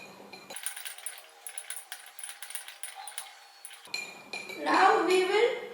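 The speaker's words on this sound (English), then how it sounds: "Mix it properly to which the sugar dissolves in the" A spoon stirring sugar into lemonade in a glass, giving bright metallic clinks and scraping against the glass with a faint swirl of liquid near the end.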